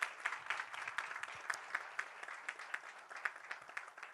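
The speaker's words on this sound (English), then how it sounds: "May we clap hands to congratulate our girls." Steady applause from an audience at a Women and Girls in Science and ICT commemoration event, many hands clapping continuously at moderate distance with no voices over it.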